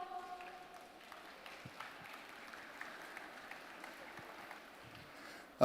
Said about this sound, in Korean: 자, 여러분 뜨거운 박수 부탁드려요